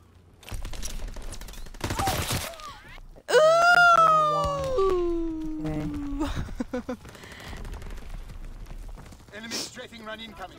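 Call of Duty: WWII gameplay with an enemy strafing run: bursts of rapid gunfire and loud wailing aircraft and siren tones over a busy battle mix, with voices talking throughout.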